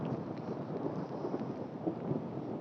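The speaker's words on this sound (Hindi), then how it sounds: "ऊपरी हिमाचल में ओलों का कहर अभी भी जारी है।" A hailstorm with thunder and rain in upper Himachal gives a steady, muffled roar of falling ice and rain with a low rumbling undertone, continuous throughout and without voices.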